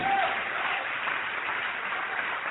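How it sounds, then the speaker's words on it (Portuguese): Church congregation applauds during a Brazilian service, a steady wash of clapping heard at moderate distance, continuous for the whole short stretch with no clear pauses. "Vamos aplaudir o Senhor Jesus."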